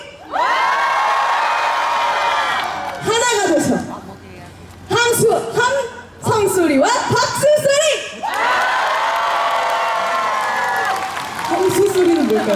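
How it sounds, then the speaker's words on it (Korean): A large outdoor festival concert crowd roars and screams in long sustained waves of cheering, loud and dense, broken by brief pauses in which voices and shouts rise through. "함성 소리."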